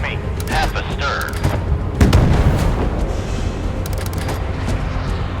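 Warship guns fire in the naval video game Force of Warships, a heavy boom thudding amid mechanical clatter and a rumbling battle din, with voices speaking over it.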